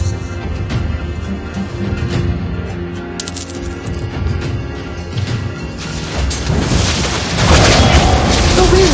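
Booming explosions from abilities in Mobile Legends: Bang Bang, a mobile MOBA, thud repeatedly through a dense mix of game effects, swelling to a louder burst near the end.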